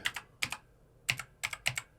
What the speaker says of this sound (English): you can see my wonderful typing skills